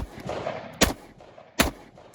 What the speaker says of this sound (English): Let's shoot it a couple more times. So I'm going to try to spread these 3 shots out.